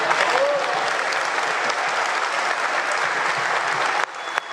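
A chamber full of lawmakers in Argentina's Chamber of Deputies breaks into sustained applause, a dense, even roar of many clapping hands that holds steady and then drops off sharply near the end.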